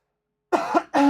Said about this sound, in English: Jeez, I'm gonna clear my throat